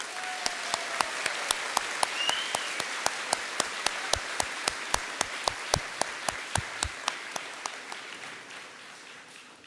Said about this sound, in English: Let's give this roll a round of applause.